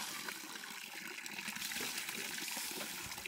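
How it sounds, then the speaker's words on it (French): Water from a bucket pours and splashes continuously during a bucket shower in a Khmu village in Laos, a steady close gushing spatter with no talking. "On va prendre une douche avec un seau."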